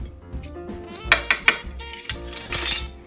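Teaspoon of sugar tipped into a baking bowl, a few light metallic clinks and a soft granular pour, close and brief over faint background music.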